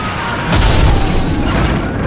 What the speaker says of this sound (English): Incendiaries incoming!